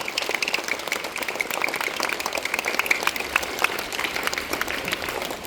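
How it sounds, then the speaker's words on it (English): Dense, steady applause fills a school assembly hall as a crowd of students claps continuously at an even level, with no speech over it. "So let us give a round of applause for her and for you also."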